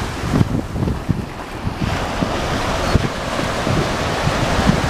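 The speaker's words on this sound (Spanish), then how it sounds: "Estamos en la playa Paraíso." Surf and strong wind at Playa Paraíso beach near Huacho, a continuous roar of breaking waves with gusts buffeting the microphone, loud and close, with no speech.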